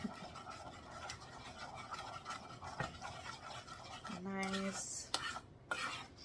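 A wooden spoon stirs chunky melting butter in a pot, making soft repeated scraping and swishing strokes close up. A voice speaks briefly, and a short tonal sound comes near the end.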